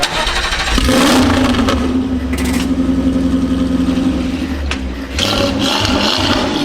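An 890-horsepower 1.6-litre four-cylinder hybrid race car engine revs hard and close, its loud snarling drone rising and falling through several blips with brief dips near the middle and end.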